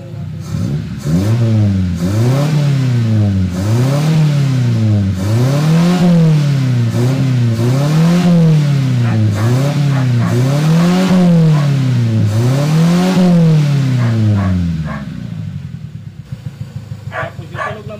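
Honda hatchback engine after a valve seal repair, with a cooling system problem and the number 1 cylinder misfiring, revved in repeated rising and falling surges about every second and a half, loud and close, then settling to a rough idle.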